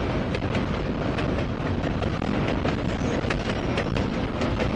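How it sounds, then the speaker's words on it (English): Norfolk Southern NS 265 freight train, intermodal cars, rumbles past at close range near Johnson City, with a steady, loud roar and rapid wheel clicks that hold constant throughout. "Pretty short trash train section."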